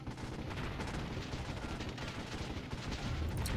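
Machine gun tanks firing on defensive turrets in the real-time strategy game Warzone 2100: a dense, continuous wash of rapid gunfire and impacts, loud and steady throughout with no talking.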